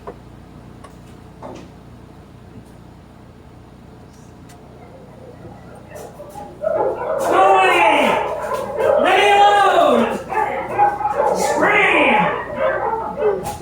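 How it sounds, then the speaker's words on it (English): Hound dogs bark in loud, close bursts of howling, yelping barks that start about halfway through, after a quiet stretch, and carry on in repeated waves to the end. "Our hillbilly neighbors, the Bumpuses, had at least 785 smelly hound dogs"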